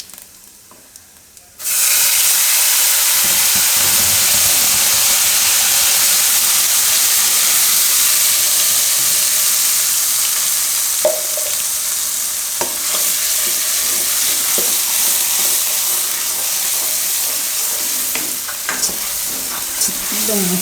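Asafoetida and ground gravy hit hot oil with a sudden loud burst of sizzling after a short quiet start, then keep hissing and crackling steadily, with occasional scrapes and clinks from stirring.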